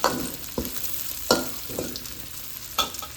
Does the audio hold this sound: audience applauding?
no